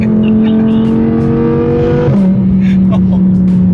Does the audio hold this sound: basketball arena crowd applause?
no